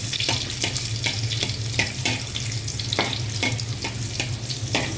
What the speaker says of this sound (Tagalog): So ilagay na natin ang bawang.